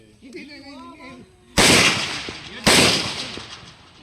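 Two loud, sharp gunshots about a second apart during outdoor firing practice, each ringing out with a decaying echo, preceded by a brief voice and quiet background.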